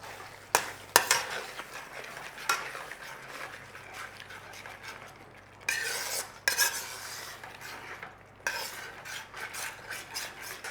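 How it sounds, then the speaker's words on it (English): Creamy cashew chicken sauce being stirred in a pan, with soft repeated scraping and clinks of a utensil against the pan bottom, close and fairly quiet, no voices. "All you got to do is just keep giving it a little stir."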